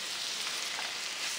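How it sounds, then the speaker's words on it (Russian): Onion softening in melted butter in a pan, a steady close sizzle and crackle running unbroken through the whole short moment with no voices. "Немного припущу в сливочном масле, пусть масло растопится"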